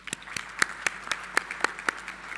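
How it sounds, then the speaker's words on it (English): A convocation audience applauds the graduating class of 2022, with distinct sharp hand claps standing out in an irregular rhythm over a softer bed of clapping throughout. "You're so deserving of a large applause."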